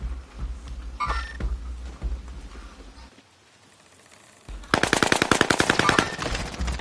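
Rapid bursts of automatic gunfire in a first-person shooter video game, a short volley early on, then a pause, then a long, loud stream of rapid shots.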